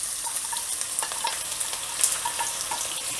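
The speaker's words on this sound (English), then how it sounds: "now to the same oil I'm gonna fry the onion." Onion frying in cooking oil in a pan for a Mauritian chutney potato dish, a steady soft sizzle and crackle with faint stirring clicks, close by and alone without talk.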